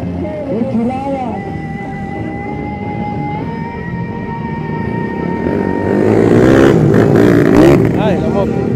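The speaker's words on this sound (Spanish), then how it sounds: "¡Ay, la moto!" A motorcycle passes through a busy Altamira traffic jam, its engine swelling louder near the end among steady traffic noise while people talk throughout.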